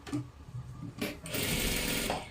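A sewing machine stitches salwar fabric in short bursts, a brief run followed by a longer steady whirring stretch, close and fairly loud with no talking.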